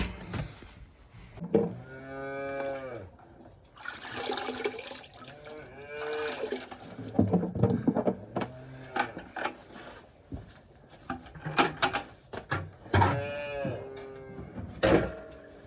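Several calves in their pens moo loudly at feeding time, long drawn-out bawling calls repeating every few seconds, some overlapping, with splashy watery noises between them.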